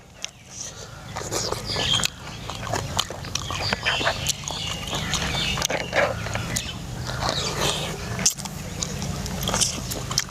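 Close, wet chewing and biting from people eating a rural Thai meal of snail salad and roasted field rat, steady and continuous over low background murmur.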